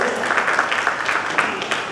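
A hall full of people at a gold, silver and diamond merchants association general body meeting breaks into dense, steady applause, many hands clapping together with a faint murmur of voices mixed in.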